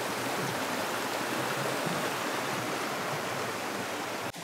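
A shallow, clear river flowing near a bridge at a rural hot-spring campsite gives a steady, close rush of water, an even hiss that runs unbroken and alone throughout.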